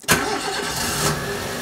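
A Nissan Micra K11 engine cranks and catches with a sharp onset, then settles straight into a steady, fairly loud idle close by, with no voices over it.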